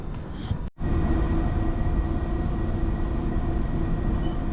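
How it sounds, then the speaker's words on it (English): A London Underground Piccadilly Line train near Oakwood rumbles along the track in a loud, continuous roar after a brief dip, a steady rolling drone with no talking. "I'm now going to travel on this train."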